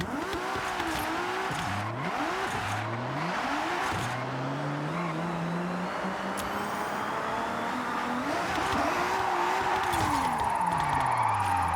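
A car in Forza Horizon 6 handbrake-drifts on a tuned drift setup at Hakone, its engine revving up and down in sweeping pitches while tires squeal and skid through long slides, loud and continuous with no voices.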